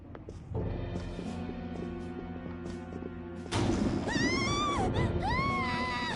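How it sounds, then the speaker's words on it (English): A sudden scream in the video game Persona Royal cuts in partway through, with a wavering, rising-and-falling cry over steady background game music. "Scream? What was that?"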